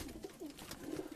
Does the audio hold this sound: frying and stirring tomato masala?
no